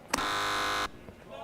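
A quiz buzzer pressed during an esports trivia segment around a CS:GO pro league playoff broadcast, one loud sustained electronic buzz lasting under a second and cutting off abruptly, with voices around it.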